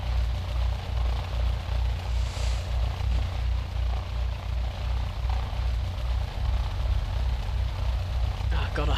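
A Cessna 152 piston engine taxiing in Flight Simulator X drones loudly and steadily, its low propeller throb pulsing rhythmically throughout.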